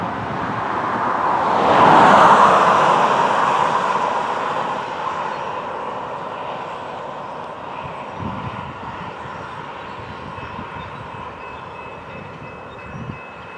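A Florida East Coast Railway train passes on the mainline at milepost 236, a loud rumbling roar that swells to a peak early, then slowly fades into a long steady drone with faint rail squeal.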